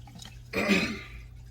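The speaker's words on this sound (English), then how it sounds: "Every time I get on video, I gotta clear my throat 100 times." A single rough throat clearing, close and fairly loud, lasting about half a second against a quiet background.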